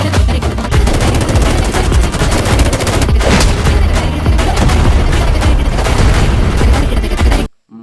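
Rapid gunfire and heavy booming explosions from an action movie trailer, loud and dense throughout, with barely a pause until a sudden cutoff at the end.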